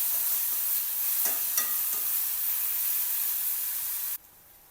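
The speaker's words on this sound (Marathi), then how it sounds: "परतून घ्यायचं, छान मिक्स करायचं।" Green chillies sautéed with salt and turmeric hiss steadily in a pan, with a few light scrapes of stirring, before the sizzle abruptly cuts off near the end.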